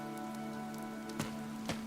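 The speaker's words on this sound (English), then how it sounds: "This rain threatens a coming storm." Rain falls in Fire Emblem Three Houses, a soft steady patter with a faint tonal hum of game music underneath and two brief louder drip-like taps near the end.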